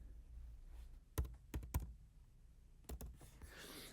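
Keys are pressed on an EOS Ion Nomad lighting console keyboard: a few sharp, close clicks in two small clusters, with quiet pauses between them.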